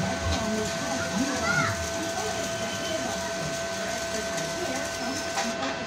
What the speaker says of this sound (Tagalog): kahit matagal itutok yung welding rod, eh, talagang sumisiklab